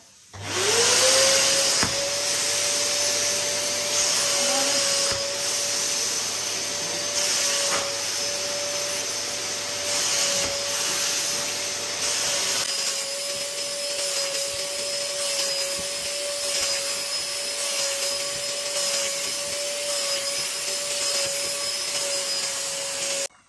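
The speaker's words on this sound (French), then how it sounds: "je viens simplement aspirer l'eau qui va venir directement se déposer dans notre cuve en inox pour récupérer les eaux sales" A Lidl injector-extractor carpet and upholstery cleaner sucks water out of a sofa into its stainless-steel tank, giving a steady, loud motor whine with a constant high tone and rough suction hiss throughout, alone without voices.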